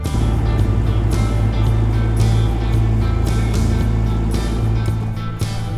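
A 60-foot Nifty articulating boom lift's motor runs steadily up close, a loud continuous low engine drone with a constant hum and no talk over it.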